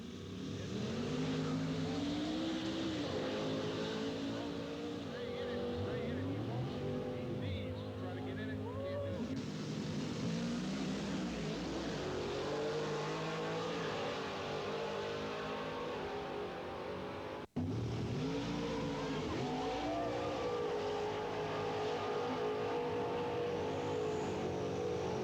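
High-horsepower hot rod muscle cars make drag racing time trial passes at a national musclecar event, engines revving and roaring continuously, loud and close, with an announcer talking over much of it.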